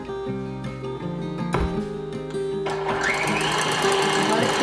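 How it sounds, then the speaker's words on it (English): An electric mixer whipping cream in a home kitchen, a steady motor whir that grows louder and busier partway through, heard close over background music. "So we're gonna turn the mixer back on."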